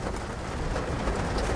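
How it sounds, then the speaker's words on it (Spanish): Heavy rain pours down in a dense, continuous hiss, loud and close with no let-up, no voices over it. "hasta que al menos la lluvia deje de llover tan fuerte, hasta que la lluvia disminuya"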